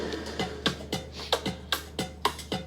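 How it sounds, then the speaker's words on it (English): Full programmed drum beat with rims, hats, kicks, tom and conga plays a steady syncopated groove of crisp percussive hits, close and moderately quiet, with no talking. "So I'm gonna just briefly play you what the entire drum sounds like"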